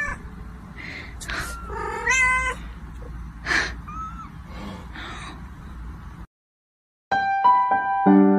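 A kitten meows repeatedly in high, plaintive cries spaced irregularly, fairly close and clear, with a short silent gap before more meowing resumes.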